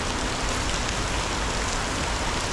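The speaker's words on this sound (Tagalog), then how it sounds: "Sarap maligo pag ulan." Heavy rain pours down steadily, a loud, even hiss of drops striking surfaces with no break.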